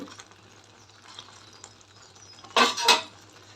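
A spoon stirs Rayalaseema-style bottle gourd yogurt masala curry in a pot: soft scraping and faint clinks, then two loud metallic clanks close together near the end.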